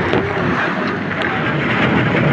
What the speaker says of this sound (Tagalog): Medyo dumidi na yung hangin.